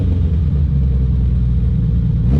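A vintage Ferrari 365 GTC4 V12 rumbles at a steady idle, a dense, continuous low engine drone heard close and fairly loud, with a slight swell right at the end.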